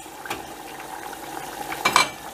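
Potatoes frying in oil over a medium gas flame are stirred and turned, with a soft continuous sizzle broken by a few scraping clinks of a utensil against the pan.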